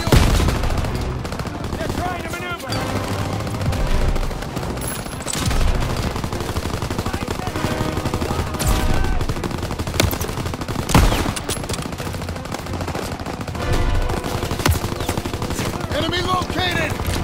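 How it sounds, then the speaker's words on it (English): Rapid gunfire rattles through a Call of Duty WWII battle, bursts of machine-gun and rifle shots overlapping in dense, loud volleys with booming impacts, while voices shout orders amid the combat. "Everyone open fire!"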